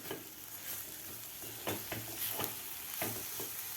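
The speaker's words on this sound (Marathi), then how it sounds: "आता आपल्याला आणखी दोन मिनटं हे मिश्रण परतून घ्यायचं आहे" Coconut and jaggery mixture stirred in a pan over a soft continuous sizzle. A spoon scrapes and knocks at intervals, close and fairly quiet, with no voices.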